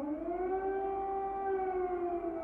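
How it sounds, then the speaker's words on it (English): A steady air raid siren in Kyiv, Ukraine, during Russian missile strikes wails continuously at an even pitch, alone and clearly audible throughout. "the sound of missile strikes and air sirens"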